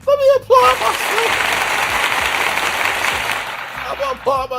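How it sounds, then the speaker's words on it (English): Applause on a talk show after-show set, with a steady wash of clapping in the middle, framed by short bursts of speech and vocal sounds at the start and end. "Let me applaud myself."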